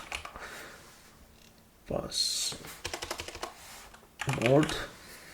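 Computer keyboard keys are pressed for Control C copy and Control V paste shortcuts, giving a few close, quiet clicks in short bursts, with a voice briefly audible near the end.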